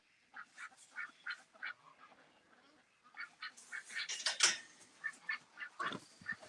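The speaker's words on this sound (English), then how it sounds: "She's the quacks. You hear the quacks?" Repeated duck quacks come in rhythmic runs inside a barn, softer at first, then louder and more crowded, like several calls overlapping close by.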